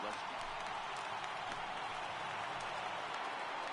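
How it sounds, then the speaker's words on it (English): A stadium crowd in a baseball video game keeps up a steady, dense roar of cheering and applause under bright lights, filling the clip without pause. "The crowd is ready to erupt as their guys get set to take the field."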